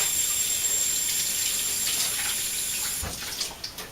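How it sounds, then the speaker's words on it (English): Tap water running steadily into a kitchen sink during hand washing while cooking quiche, a close continuous rush that breaks into splashes and drips near the end, with no talking. "Just want to keep washing my hands here"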